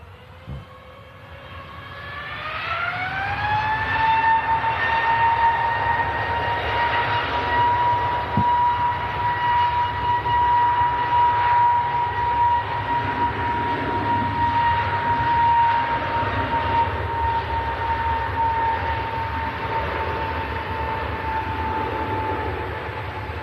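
A passenger jet rolls down the runway and climbs out on takeoff. Its engine whine rises steeply over the first few seconds into a loud, sustained roar with a steady high tone, holding strong until it fades slightly at the end.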